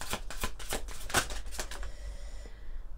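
Tarot cards being shuffled by hand, a quick run of soft, close riffling flicks that slows and fades out near the end, with no talking.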